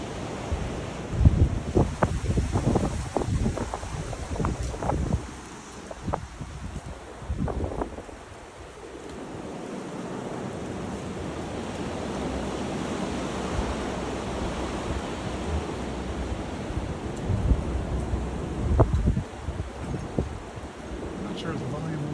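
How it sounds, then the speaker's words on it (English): Winter winds of about 25 mph gusting to 50 mph roar outdoors, buffeting the microphone in a steady, loud rushing blast with irregular thumps early on, continuing alone for over twenty seconds. "Sure sounds windy to the regular ear."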